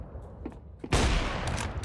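Gunfire in a video game: a sudden, loud, sustained burst of rapid shots that starts partway through and continues to the end, after a few quieter pops.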